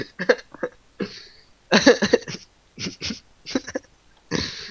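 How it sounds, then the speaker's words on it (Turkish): A rough coughing fit in bursts, several harsh coughs close to the mic with short pauses between them, uneven and strained. "Öksürük tuttu."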